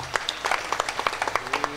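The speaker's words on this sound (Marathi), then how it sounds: "ताईंसाठी जोरात टाळ्या वाजवा बरं." Brief clapping from an audience at a talk, a short run of distinct, fairly close hand claps with a faint voice in the background.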